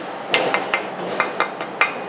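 A brake pad hardware clip being tapped into place on a Kia Rondo front brake: about seven light, sharp metallic taps at an uneven pace, close by, over a steady hiss of background noise.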